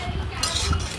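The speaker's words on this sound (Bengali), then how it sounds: "আমি ভালো করে সবজিটা কষাই নেব" Vegetables being stirred and sautéed in a pan for a potato omelette: quick metallic clinks and scraping of a utensil against the pan, close and fairly loud, over a dense background.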